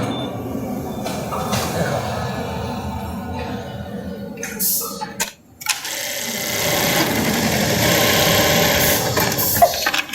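A Brother RH-9820 eyelet buttonhole sewing machine stitches with a steady, loud mechanical whir and rattle that dips briefly midway before resuming at full pace.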